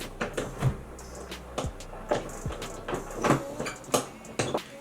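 Repeated knocks, thumps and creaks as a stiff window frame blocked by heavy snow outside is pushed and rattled, several sharp impacts at irregular intervals, close by.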